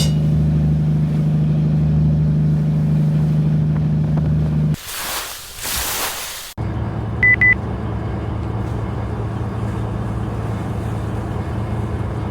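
Strong southeast wind buffets a fishing boat at sea off Hokkaido, a loud roaring gust and microphone wind blast over the steady low drone of the boat's engine, with a brief beeping tone afterward.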